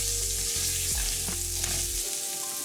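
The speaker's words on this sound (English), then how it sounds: "So we're adding the tomato paste to all of this fat to actually caramelize the sugars that are in the tomato paste." Tomato paste fries in hot fat in a pan, a loud continuous close-up sizzle and crackle with a few low knocks of stirring, easing slightly near the end.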